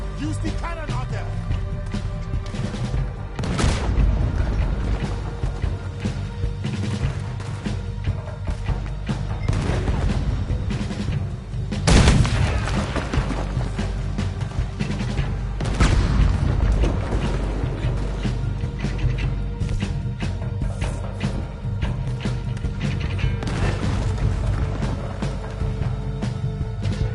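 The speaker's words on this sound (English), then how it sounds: "Use the cannon out there." Cannon firing in a video game, with several sharp, booming blasts spread over a loud, continuous rumble of battle noise, and voices talking intermittently underneath.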